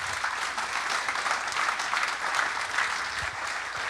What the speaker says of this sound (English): give all of those people a round of applause